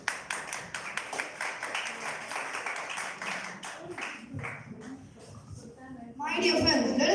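A meeting audience breaks into dense applause, many hands clapping at once for a few seconds before the clapping thins out and a voice picks up at the end.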